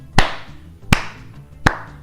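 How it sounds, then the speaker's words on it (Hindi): Three sharp, loud claps spaced evenly about three-quarters of a second apart, used as a sound effect in a Hindi-narrated Marvel comic story, each clap standing alone over a faint background. "तभी अचानक उनके पीछे से तालियों की आवाज आती है।"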